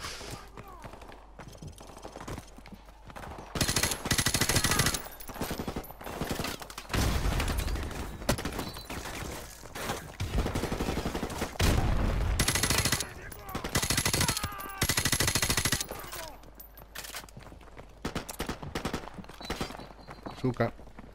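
Heavy automatic gunfire in Call of Duty Modern Warfare Remastered, repeated long bursts and rapid volleys loud and close, broken by short pauses, with someone talking at times.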